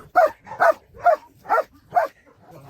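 Five evenly spaced, sharp police dog barks ring out at close range during training, followed by quieter shuffling.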